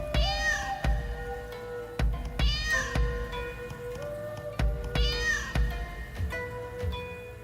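Cartoonish cats meowing repeatedly in a Mr. Bean video game, a series of loud, rising and falling meows at a steady rhythm, close and clear, with background game sounds.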